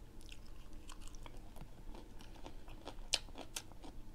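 Quiet crunching bites and chewing of air-fried yellow bass with jalapenos and Tabasco sauce, heard as soft, close mouth sounds. One sharper crunch stands out near the end, with no talking.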